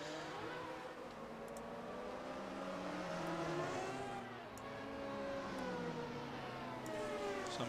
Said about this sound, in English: I noticed the engine sounds is seeming a little bit high this evening.